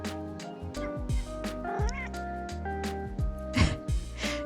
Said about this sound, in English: Also, my cat's meowing.